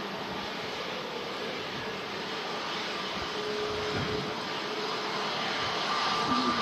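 An Etihad airliner touching down at Manchester Airport in strong storm winds, heard as a steady broad roar of engines and wind noise that swells slightly toward the end, continuous and fairly loud.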